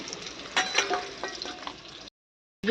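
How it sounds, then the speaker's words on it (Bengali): Boiled potatoes fry in hot oil in a home kitchen, giving a steady crackling sizzle with a few sharper pops before cutting out abruptly. "সাথে এখানে আলুটা সিদ্ধ করে দিয়েছিল, তো এটা একটু ভেজে নিচ্ছে"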